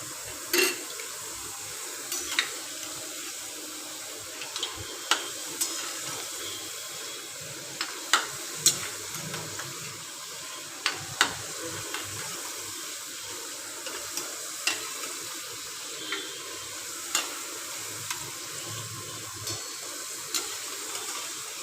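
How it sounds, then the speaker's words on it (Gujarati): Salted water poured into hot oil where potato chips are frying, a soft continuous sizzle and bubbling crackle with scattered sharp pops and spits, close but fairly quiet. "તમારા મીઠાવાળું પાણી તમે આમાં નાખો એટલે થોડાક આગળ રહેજો, પાણી ઉઠશે"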